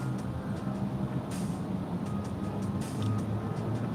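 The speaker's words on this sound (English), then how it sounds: "your car is loud and in a tunnel it's even louder" A VW ID.3 electric car driving through a tunnel, giving a steady, loud, enclosed road and tire roar that stays constant throughout with no talking.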